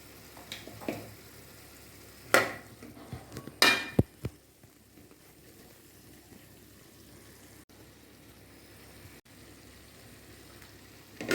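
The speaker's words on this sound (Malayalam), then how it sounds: "ഇതിലേക്ക് ഞാൻ അല്പം മഞ്ഞൾ പൊടി ചേർത്ത് ഇളക്കിക്കൊണ്ടിരിക്കുകയാണ്" A utensil stirs soft cooked cauliflower with turmeric powder in a pan, giving a few sharp scrapes and clinks early on, then mostly quiet low kitchen background.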